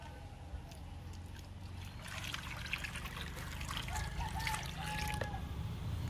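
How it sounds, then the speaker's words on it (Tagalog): A little water trickles steadily into a pot of cassava, a continuous soft pour beneath a low background hum, growing slightly louder toward the end. "Tapos, lagyan natin ng konting tubig."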